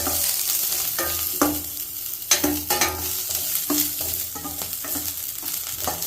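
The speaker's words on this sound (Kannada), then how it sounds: "ಚೆನ್ನಾಗಿ ಈರುಳ್ಳಿನ ಇದರಲ್ಲಿ ನಾವು ಫ್ರೈ ಮಾಡ್ಕೊಳ್ಳೋಣ" Onions frying in hot oil for a Mangalore-style chicken curry, a steady loud sizzle broken by repeated sharp scraping stirs, close and continuous with no talking.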